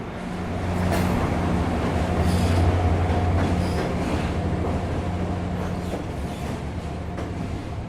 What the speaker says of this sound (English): Just coming into the station at this moment is a Virginia Railway Express